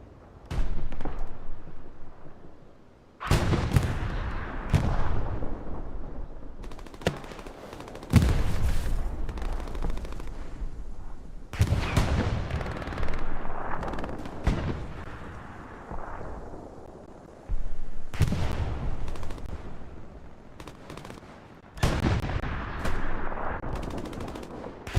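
Heavy tank cannon blasts and rattling gunfire on Utah Beach in Hell Let Loose come as a string of loud, booming explosions spaced a few seconds apart, each trailing off into rumbling battlefield noise.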